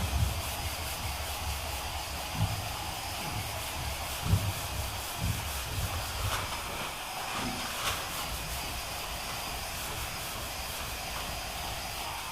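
Primer sanded off car bodywork by hand with sandpaper: a continuous quiet scratchy hiss with a few soft stroke bumps, close and without voices.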